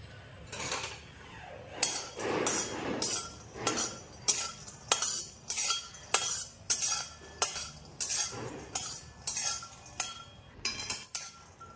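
Peanuts dry-roasting in a hot wok are stirred with a metal utensil, producing a steady series of sharp scraping clanks, roughly one every second, close and clear with no voices.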